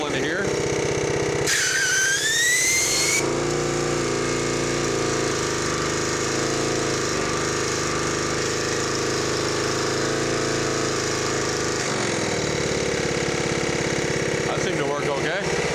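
A Honda GX140 engine on a Jenny gas-powered air compressor idling steadily with a loud, close, continuous chugging drone, with a brief burst of hissing air partway through and someone talking over it.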